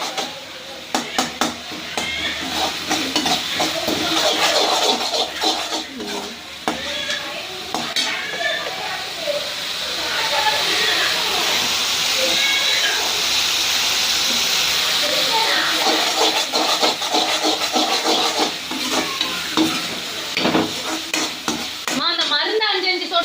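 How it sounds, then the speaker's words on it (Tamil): Onion and tomato sizzle and fry in oil in a home kitchen pan for a noodle dish, with steady hiss and occasional spoon stirring and scraping against the metal, fairly close and continuous throughout. "ஓகே, வெங்காயம் தக்காளி வதங்கிச்சு"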